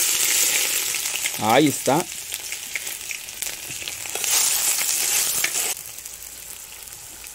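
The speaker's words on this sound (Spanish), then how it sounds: "Ahora sí, ahí va la cebolla." Onion dropped into a cooking pot over a wood fire, frying with a loud steady sizzle and crackle; a brief voice speaks early, and the hiss later eases down.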